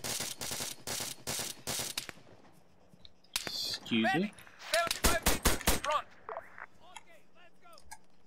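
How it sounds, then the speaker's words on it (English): Bursts of rapid gunfire in the video game Arma 3 crack in quick rhythmic volleys, with a voice speaking between the shots and some electronic whooshing effects. "I won't get confused by my own gunfire"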